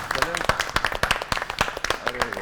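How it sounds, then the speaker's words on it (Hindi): A studio audience on a Pakistani grocery game show claps in a steady patter of sharp hits, with voices and a harmonic vocal sound running over the applause throughout. "तालियां बजाएं जी।"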